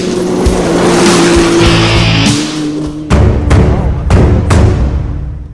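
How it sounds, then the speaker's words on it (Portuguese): Quad bikes and odd grasshopper-like cars racing in a rally, engines roaring loudly and continuously, with several sharp bursts and revs in the second half. "Encontramos este grupo fazendo rally com quadriciclos e carros esquisitos"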